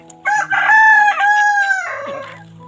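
A rooster crows once, loud and close, a full drawn-out cock-a-doodle-doo that tails off into a lower rasp at the end.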